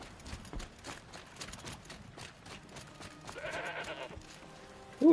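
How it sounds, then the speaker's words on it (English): A goat bleats faintly in the Horizon Zero Dawn video game amid quiet ambient game sounds and soft footsteps, ending with a sudden louder noise. "Ooh, a goat."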